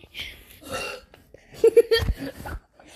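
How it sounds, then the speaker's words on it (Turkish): A loud, gurgling burp rumbles out near the end amid scattered laughter and chatter from a small group of friends. "orada geğirdi"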